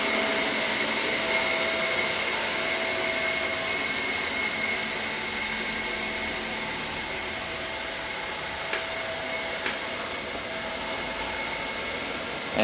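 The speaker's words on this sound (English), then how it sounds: "This robot does have a max suction, so I'm just testing it right now." Chuwi ILIFE V5S robot vacuum cleaner running at max suction, a steady, loud broadband whoosh with a constant motor whine, holding level and unbroken throughout with only a couple of faint clicks near the end.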